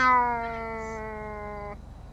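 A single drawn-out cat meow from a video game, clear and fairly close, holding a steady tone for almost two seconds before stopping, over a faint low ticking hum.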